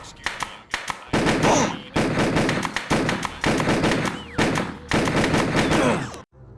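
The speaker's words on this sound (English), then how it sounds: "we'll get him with the nail gun" Nail gun firing in the horror video game Harvester, delivered as rapid bursts of sharp mechanical shots in several repeated volleys, loud and close, with a brief pause between each string of rounds.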